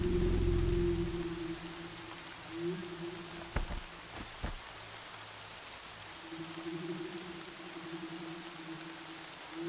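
Rain falls steadily in the video game Horizon Zero Dawn, a soft continuous patter with a low hum beneath it and a couple of brief sharp knocks partway through.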